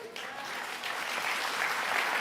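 Faint, tepid applause from a crowd at a Donald Trump speech, a thin patter of clapping that swells slightly over two seconds without ever getting loud.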